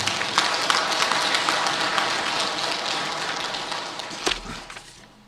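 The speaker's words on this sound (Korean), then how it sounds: "수고하시는 자원봉사 여러분께 참탈의 박수 한번 부탁드리겠습니다" An audience at a Buddhist service applauds the volunteers with dense, sustained clapping from many hands that gradually thins out and fades at the end.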